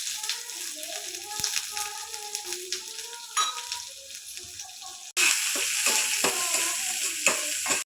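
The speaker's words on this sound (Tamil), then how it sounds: "கடுகு போட்டுக்கலாம், உளுந்து போட்டுக்கலாம், கொஞ்சமாக வெந்தயம் போட்டுக்கலாம், சின்ன வெங்காயம், பச்சை மிளகாய்," A tempering of mustard seeds, urad dal, fenugreek, shallots, green chillies and curry leaves fries in hot oil, sputtering and crackling close by with stirring, then jumping to a louder, fuller sizzle as more goes into the pan.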